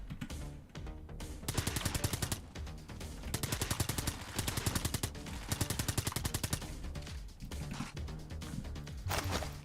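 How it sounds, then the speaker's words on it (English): Turret fire in the video game Brigador Killers comes as rapid, loud bursts of automatic shots, several long volleys separated by short pauses. "I'm using the turret."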